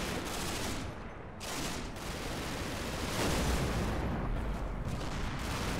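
Machine guns in the Combat Mission video game roar in a dense, continuous fusillade of close, loud gunfire that pulses through the whole stretch, with no talk over it.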